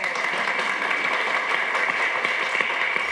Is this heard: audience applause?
yes